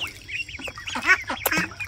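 Ducks quack in a busy, overlapping chorus of short nasal calls, close by and continuous.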